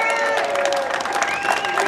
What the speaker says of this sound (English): One more round of applause for Jim.